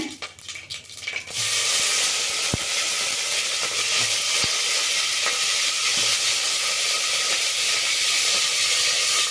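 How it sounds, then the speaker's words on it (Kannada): Curry leaves, brinjal and potato dropped into hot oil for tempering a sambar, a sudden burst of loud, steady sizzling hiss that continues close and unbroken, with a few faint clinks. "ನಾನು ಈಗಲೇ ಒಗ್ಗರಣೆ ಹಾಕ್ಕೊಳ್ತಾ ಇದ್ದೀನಿ ಸ್ವಲ್ಪ ಕರಿಬೇವು ಮತ್ತು ನಾನು ಹೆಚ್ಚಿಟ್ಕೊಂಡಿರೋ ಅಂಥ ಬದನೆಕಾಯಿ ಮತ್ತು ಆಲೂಗೆಡ್ಡೆ ಹಾಕ್ಕೊಳ್ತೀನಿ"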